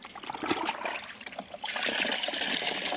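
A cloth dunked once into a bucket of Nemesis rinseless wash solution, giving sloshing, trickling water that turns to a steadier, brighter pouring and dripping stream partway through, close and fairly loud with no talk.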